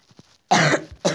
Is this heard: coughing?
yes